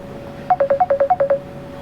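Telephone keypad dialing tones, a quick run of nine evenly spaced, clear beeps, loud and close, with nothing else over them.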